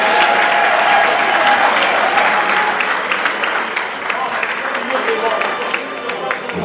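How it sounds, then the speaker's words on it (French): An audience applauds at a civil wedding in Brazzaville, a thick, continuous wash of clapping that thins slightly toward the end, with voices mixed underneath. "on applaudit très très fort pour le monsieur Marius"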